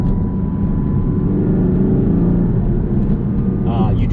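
A 2018 Porsche Cayman turbo engine while driving gives a steady, low, droning hum that runs beneath continuous talk from inside the car.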